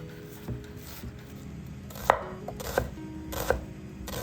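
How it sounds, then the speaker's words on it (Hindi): A knife chops onions finely on a cutting board, a handful of irregular taps and knocks at close range, quiet overall, with no one talking. "फाइनली चॉप हमने करना है अनियंस"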